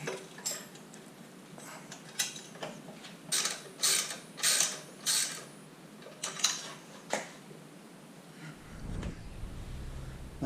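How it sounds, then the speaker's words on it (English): Ratchet clicks and metallic ticks while a skid plate is bolted onto a Honda CRF50 dirt bike, bursts of quick clicking at close range with short pauses, ending in a duller clunk. "bolting on my skid plate."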